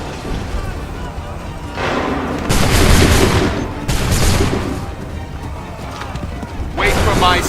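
A musket volley in the video game Assassin's Creed III, with loud rolling bursts of massed gunfire booming in several waves amid battlefield noise and shouted voices.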